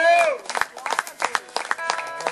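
Congregation at an open-air church service clapping in quick, uneven bursts at moderate distance, with a preacher's voice heard at the start and threading through the applause.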